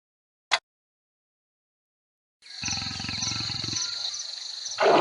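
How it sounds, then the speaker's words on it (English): A lion roars, a deep rumbling growl that swells after a sharp click and near-silence, loud and close, holding steady before rising again at the end. "The lion lives and hunts on the African savanna. Its ferocious roar can be heard for miles around."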